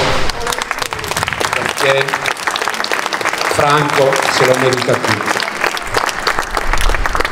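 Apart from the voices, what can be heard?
audience applause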